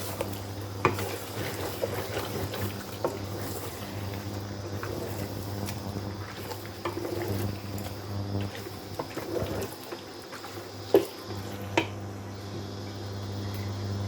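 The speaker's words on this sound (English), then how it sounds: "Give it another stir." Beef stew simmering in a pot as a spoon stirs it, giving soft scraping and clinks over a low bubbling hum, with a couple of sharper taps on the pot and no talking.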